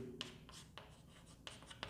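A pen writing during a class 10 probability maths lesson, producing short scratchy strokes and several sharp taps, close and quiet, with no speech.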